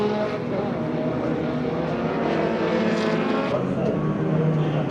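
Formula Vee race cars roar past on a circuit in a continuous, dense engine drone with shifting tones as they come through a corner, while a commentator talks over the noise.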